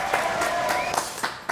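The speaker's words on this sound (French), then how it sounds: "Ghislain Fossel, on applaudit très très fort." Studio audience on a French TV show applauding a guest, a steady burst of clapping with a few sharper claps standing out near the end.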